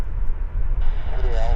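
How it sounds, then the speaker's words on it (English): A WestJet airliner on approach to Vancouver Airport, a steady distant engine roar rising slightly toward the end, with a person talking over it. "WestJet making its way down to us"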